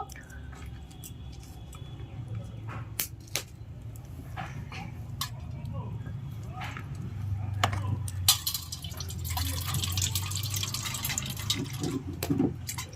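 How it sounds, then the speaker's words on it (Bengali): Ground coconut being squeezed and strained by hand to press out coconut milk, with wet squishing, dripping and trickling liquid building toward the end. "তো আমি নারকেলটা এবার ছেঁকে নেব।"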